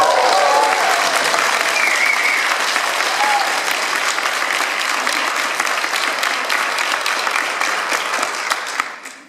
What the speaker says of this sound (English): I hope you heard the applause here as well